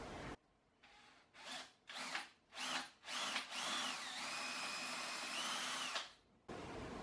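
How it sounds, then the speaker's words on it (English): A power drill bores a larger countersink into wood while repairing a summer seat, in several short bursts that build into one longer whining run, close and clear, with pauses between and no talk. "just drill a bigger hole"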